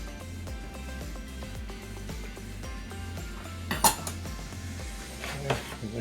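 Garlic and parsley being mixed in a pan for chicken pot pie, with steady scraping and clinking of a utensil against the pan, a few louder knocks near the end.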